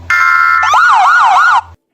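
A loud electronic siren, a brief steady tone that switches to a rapid warbling wail, ending abruptly after under two seconds.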